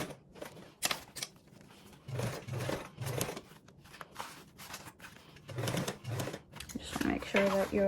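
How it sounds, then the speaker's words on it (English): A sewing machine topstitches along a fabric edge in short, rhythmic bursts of quick rattling stitches, separated by brief pauses, fairly close and moderately quiet. "we are now going to go ahead and top stitch this edge"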